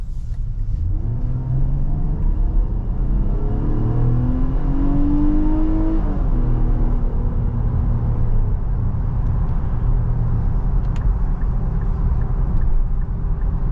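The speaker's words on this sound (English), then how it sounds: "Let's go ahead and do another acceleration right here." A 2023 Nissan Pathfinder Rock Creek SUV with a 3.5-litre V6 accelerates hard in sport mode, its engine note climbing in a rising drone over a steady road rumble heard from inside the cabin.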